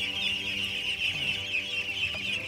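A flock of hungry farm ducks gathered before being released into a rice paddy keep up a constant mass of nasal calling and clucking, close and steady throughout with no talk.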